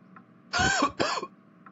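Two rough, close coughs in quick succession, loud against a quiet background.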